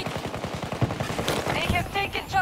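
Rapid automatic gunfire from a Battlefield 2042 match rattles in a quick regular burst of sharp cracks, then gives way to a voice talking over lighter background shots.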